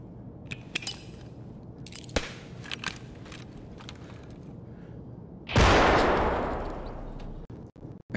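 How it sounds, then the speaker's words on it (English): A grenade bursts in the video game Escape From Tarkov, a single loud, close explosion that fades over a couple of seconds, after a few faint clicks and footstep noises. "Let me throw a grenade over here."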